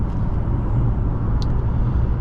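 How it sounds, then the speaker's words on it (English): A 2023 Mercedes-Benz C300 with a 2-liter turbo four-cylinder of 255 horsepower, driven on the road; a steady low engine hum and road rumble inside the cabin, constant and fairly loud, without talk. "Now this is a 4-cylinder, 2-liter turbo, 255 horsepower"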